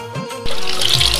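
A wet mop swished across a floor at home, heard as a close, loud, continuous watery swishing that starts abruptly and fills the rest of the moment.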